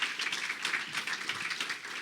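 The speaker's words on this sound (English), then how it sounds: "Let's give her a round of applause for that." A conference audience at a breakout skill session applauds steadily for about two seconds, a dense, even wash of hand claps heard from some distance with no talking over it.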